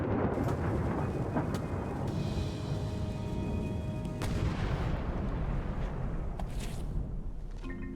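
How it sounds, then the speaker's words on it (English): A cannon fires in the Return to Monkey Island video game, a loud sustained boom with rumbling debris that fills the whole stretch, with a metallic ringing tone and a later sharp crack. "Light the cannon."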